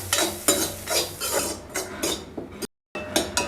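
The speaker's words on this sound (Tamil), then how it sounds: "கொஞ்சம் சாதத்தை எடுத்து அதே சட்டியில் போட்டு" Cooked rice is stirred and scraped around the same pan for lemon rice in repeated rhythmic strokes that break off for a brief silent moment, then resume.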